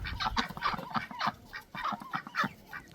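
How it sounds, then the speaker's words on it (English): Farm chickens clucking close by in a steady, busy stream of short calls, several birds overlapping with no talk. "Oh, chickens."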